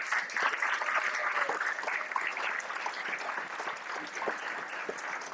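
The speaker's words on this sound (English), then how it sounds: "You deserve, as a student body, a big round of applause" A school student body applauds at a press conference on food tray replacement, a dense, steady round of clapping from a large crowd that holds at an even level throughout.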